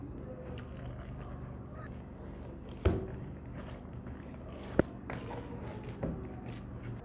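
Chicken pizza dough is mixed and kneaded by hand, with water added gradually, making soft, sticky squishing and slapping sounds broken by a few sharper thumps against the bowl, close and steady, with no talk.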